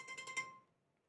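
A short electronic phone alert tone for a flash flood warning chimes a few quick pulses, then fades out; faint and brief.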